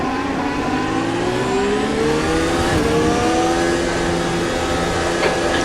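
A race car engine revs steadily in a Silverstone racing video game, its loud, continuous pitch climbing and falling through gear changes for several seconds, with no talk over it.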